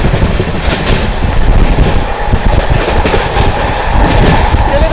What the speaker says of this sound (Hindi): सामने से आती है 12877 रांची नई दिल्ली गरीब रथ एक्सप्रेस